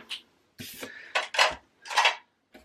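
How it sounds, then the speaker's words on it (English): Small plastic diamond painting storage pots clicking and clattering as their lids are pulled off and swapped, a few close, crisp knocks and scrapes in separate bursts with brief pauses, no speech. "I'll swap the lids on it"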